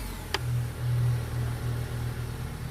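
A 2006 Honda Civic engine idles just after being switched on, a steady low hum with a faint mechanical whine, heard close with one brief click near the start and no talking.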